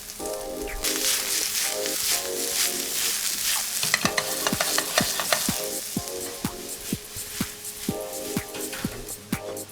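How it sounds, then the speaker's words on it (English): Chopped red peppers and red onion sautéing in hot oil in a pan, a loud continuous sizzle with rapid rhythmic scraping strokes of a spatula building through the second half, close up. "And let's saute the vegetables"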